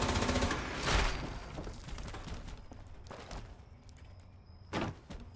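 Enemy gunfire in Fallout 76, heard as a few scattered sharp bursts with door-like thuds and clanks, moderately loud, with a brief electronic whine between shots.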